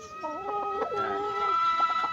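Chickens cluck and call in a close, steady stream of short, rising and falling notes, with no talking.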